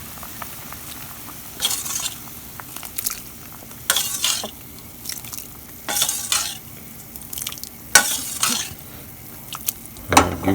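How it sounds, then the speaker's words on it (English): Dal is stirred into a pot of boiling South Indian sambar with tamarind, giving soft bubbling and sizzling beneath repeated bursts of spoon scraping and clinking against the pot, close and moderately loud. "Give it a quick stir,"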